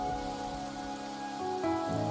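Steady rain falls in the video game Wuthering Waves, a continuous soft patter with faint music-like tones layered over it and no talking.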